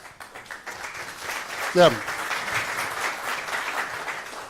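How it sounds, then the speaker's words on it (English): An audience at a conference on patents and standards applauds a speaker with steady, moderately loud clapping that runs throughout, while a voice briefly cuts in over it partway through. "A round of applause for Justus."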